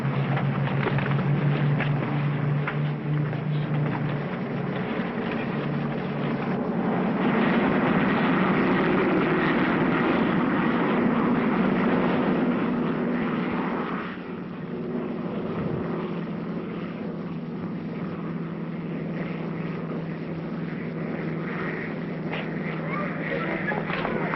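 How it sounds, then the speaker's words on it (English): A propeller airliner drones steadily in the cabin as it prepares to land, a muffled continuous engine hum that dips slightly partway through, with voices speaking over it. "It's preparing to land now."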